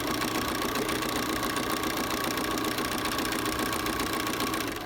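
Sewing machine stitching a canvas tote bag with a fast, continuous mechanical whir and needle chatter, steady and close, with no talking.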